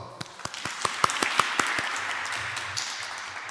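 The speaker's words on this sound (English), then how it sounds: "Let's give them an applause." A small audience in a chapel applauds a choir after a Buddhist meditation service, scattered claps at first that swell into a brief, moderate round of applause before fading.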